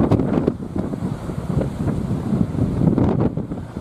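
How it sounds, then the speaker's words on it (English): Waves break with white horses over open water near a shoreline bird hide, a rough rumbling wash buffeted by heavy wind noise against the microphone, steady and close throughout. "Some of those waves are cracking over just there."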